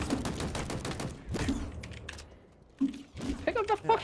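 Gunfire in Halo multiplayer, a rapid burst of repeated shots in the opening seconds followed by quieter mechanical clicks and scattered game effects, with brief bits of voice.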